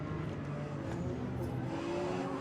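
Porsche 956 prototype race car in Forza Motorsport, running in P class at Mid Ohio, its engine droning steadily at moderate volume with slight pitch shifts and no voices over it.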